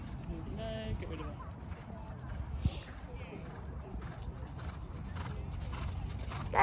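Horse hooves at a hunter trials event, a soft irregular clip-clop in the first couple of seconds beneath outdoor ambience, with people talking nearby and the thud of movement continuing.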